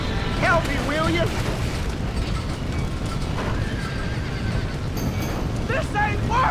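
Horses neigh and whinny repeatedly inside a burning barn in the Red Dead Redemption video game, with hoof clatter, a dull roaring rumble throughout, and voices shouting over the chaos.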